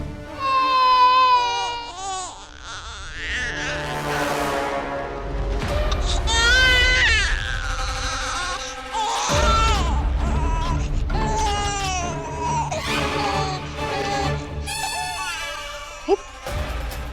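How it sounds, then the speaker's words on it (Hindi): An infant wails in loud, drawn-out sobbing bursts with short breaks, mixed with dramatic background music and some voices. "बच्चे के रोने की आवाज।"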